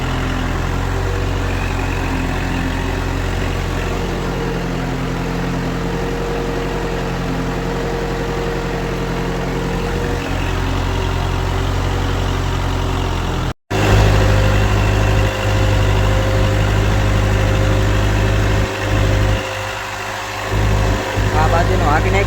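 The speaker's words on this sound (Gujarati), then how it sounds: "તો આ ટ્રેક્ટર આટલું અડીને હાલે" A 45 hp Kubota tractor ploughing stony farmland drones with a steady, loud engine note that holds throughout, with voices talking over it.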